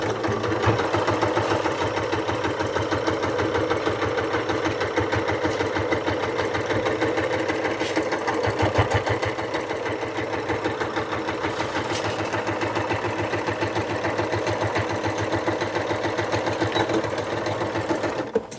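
Sewing machine stitching a scalloped Christmas stocking cuff with back stitching, a steady, close, continuous mechanical whirr and rapid needle clatter running without a break for nearly twenty seconds.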